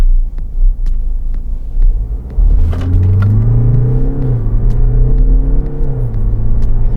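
A BMW with stability control (DSC) fully switched off accelerates hard from 0 to 100 km/h after a two-pedal launch, its engine climbing in a loud, steady rising drone with gear changes audible as the pitch drops and climbs again.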